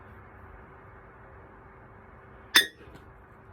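A single sharp glassy crack from a glass ashtray used as a makeshift cauldron, one brief bright clink rising over a quiet room hum, heard alone.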